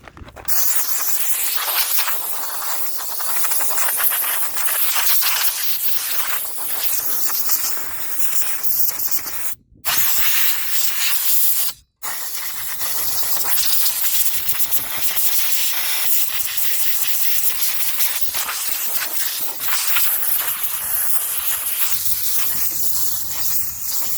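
Compressed air hisses in loud, sustained bursts as it blows debris out of a riding lawn mower deck's pulleys, with two brief pauses between long blasts.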